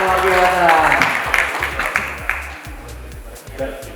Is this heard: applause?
yes